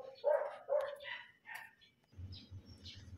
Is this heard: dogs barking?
yes